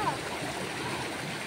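Stream water flowing noisily, a steady, faint rushing wash with no breaks across the brief stretch.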